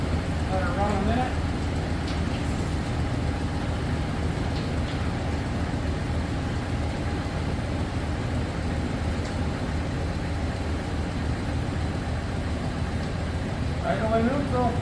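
Dodge Ram 1500 pickup engine idling in neutral in cold weather, a steady low rumble that runs evenly throughout at moderate level, with faint voices audible near the start and end.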